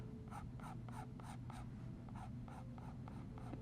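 Graphite pencil shading a quick portrait sketch of a child's face on paper, a steady series of about a dozen scratchy back-and-forth strokes in close, even rhythm, near and clear with no talk.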